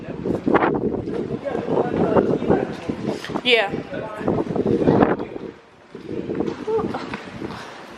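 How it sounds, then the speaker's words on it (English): Strong gusting wind buffets the microphone outdoors on a blustery day, a loud rumbling roar that swells and drops for a moment, with people chatting over it. "It's really windy today."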